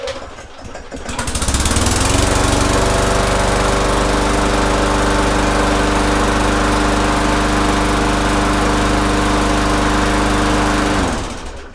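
A Briggs & Stratton 4.5 hp lawn mower engine, freshly serviced after a carburetor clean, is pull-started and catches quickly, then runs loud and steady at high speed for several seconds before shutting off.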